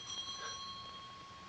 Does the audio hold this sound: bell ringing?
yes